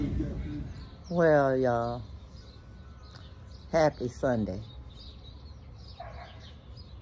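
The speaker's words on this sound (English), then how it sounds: "The birds are singing in the background." Birds call outside a house in Galveston, Texas, including a few cooing and crowing-like calls between and under a person speaking nearby.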